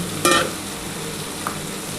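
A splash of water hits a pan of frying Mourola fish with potatoes and yardlong beans, setting off a sharp, brief burst of sizzling that settles into a steady close frying hiss.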